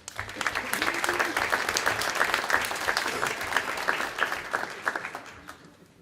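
An audience at a school district board meeting claps for teachers, a fairly quiet, moderately dense patter with scattered sharper claps, rising and then fading, with a voice speaking over it.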